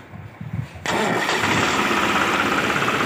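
A tractor-driven rice mill machine being started on trial: a brief quiet rattle of cranking, then the engine catches abruptly and settles into a loud, steady running roar.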